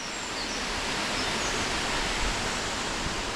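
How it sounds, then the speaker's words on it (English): A moorland burn and its waterfalls flow near Stainforth, a steady, dense rush of water close by, with no talk over it. "there's more waterfalls just there"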